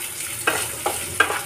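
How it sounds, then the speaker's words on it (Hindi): Onions and curry leaves for upma sizzling in a pan, with a steady close frying hiss and three quick stirring scrapes at regular intervals. "अब इसमें कढ़ी पत्ता डालते हैं। अब प्याज को डालेंगे"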